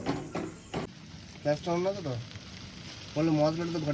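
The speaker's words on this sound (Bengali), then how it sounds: "এরপর আমরা মশলাটাকে ভালো করে নেড়ে নেব" Chicken masala spices sizzling in a pan while being stirred, a moderate frying hiss under a person speaking, with a few scraping stir sounds.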